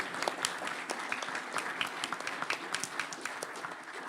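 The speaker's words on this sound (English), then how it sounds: "let's have a round of applause for this" An audience at an executive leadership summit gives a round of applause, with individual claps distinct and fairly close, steady for about four seconds.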